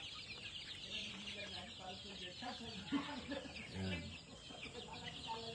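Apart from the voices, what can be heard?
baby chicks cheeping on a farm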